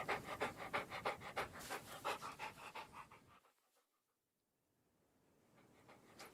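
A dog pants rapidly and close by, a steady run of quick breathy huffs that stops abruptly, leaving near silence before faint rustling returns.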